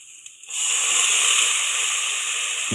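Masala with garlic ginger paste hits hot oil and bursts into a loud, steady frying hiss that starts abruptly and holds without talk.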